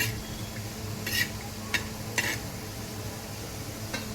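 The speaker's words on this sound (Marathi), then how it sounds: "आता आपण तेलातून शेंगदाणे थोडेसे फ्राय करून घेतो" Peanuts frying in oil, a soft steady sizzle with a few sharp pops and crackles spaced through the clip, quiet and without voices.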